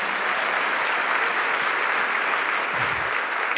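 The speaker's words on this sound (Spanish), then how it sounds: "A ver, démosle palmas fuertes a nuestro Señor." A church congregation claps loudly and steadily for the Lord, a dense, sustained wash of applause with no voices over it, ending in a brief sharp burst.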